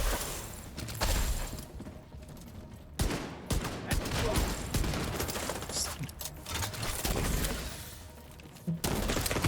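Gunfire in a shooter video game: repeated bursts of automatic fire and scattered shots, loud and close, filling most of the stretch with short gaps between volleys.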